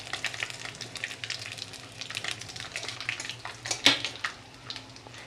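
Panch phoron, dried red chillies and bay leaf sizzle and crackle in hot oil in a Bengali kitchen, a close, busy spatter of pops and hissing with small clinks from the pan.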